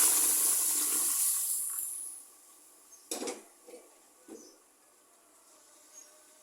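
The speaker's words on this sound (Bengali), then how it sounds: "এখানে দুধটা ঢেলে দিচ্ছি" Milk is poured into hot caramel in a pan, making a brief rushing hiss for about two seconds. A few soft clinks of utensils against the pan follow in a quiet kitchen.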